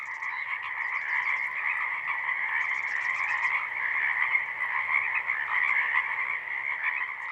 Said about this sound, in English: the evening frog chorus in the Lewis and Clark National Historical Park